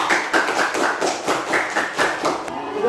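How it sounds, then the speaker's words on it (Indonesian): A classroom group claps in quick uneven bursts, a rapid patter of many hands close by that fades out near the end. "Udah hebat ya, tepuk tangan yuk."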